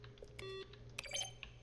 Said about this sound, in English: Sound is a mix of a keyboard stroke and a synthesized tone.